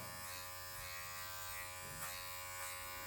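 An electric hair clipper fitted with a number 1 guard buzzes steadily and close while cutting hair for a fade, its whine shifting slightly as it moves through the hair.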